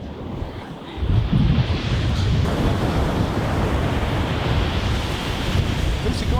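Ocean surf on a Delaware beach in winter rushes and washes continuously with gusty wind noise across the microphone, a broad, steady roar close by.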